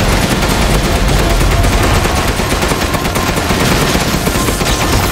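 Dense, continuous automatic gunfire in the Resident Evil Village video game, loud and sustained without pause, a rapid wall of shots filling the whole stretch.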